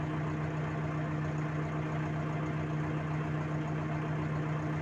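Inside the cab of a LOVOL 1054-D tractor, the engine idles at 900 rpm as a constant, loud, low droning hum with a steady tonal note and no talk.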